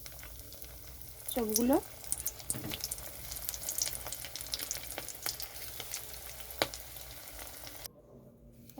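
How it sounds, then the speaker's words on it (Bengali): Banana flower chops fry in hot mustard oil in a karahi, giving a soft, steady crackle with scattered pops. A brief word is spoken early on, and the frying continues quietly until an abrupt cutoff near the end. "কড়াইতে তেল গরম হয়ে গেছে, সর্ষের তেল"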